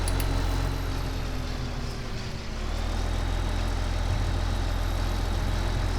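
Tractor engine in Farming Simulator 2015, a loud, continuous low rumble with a steady drone and slight dip in level partway through, no talk over it.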